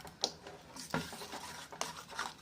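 Rice flour batter is stirred in a pan with a utensil, giving soft, faint scraping and swishing strokes at an uneven pace, with no talk.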